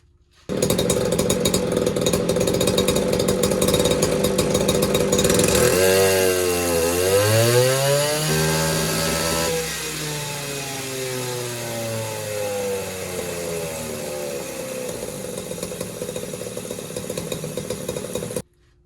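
A ported Poulan 3450 54cc chainsaw engine runs loud and close, holding a steady high buzz, then its pitch sweeps down and back up as the load changes before it settles into a sustained rasping whine.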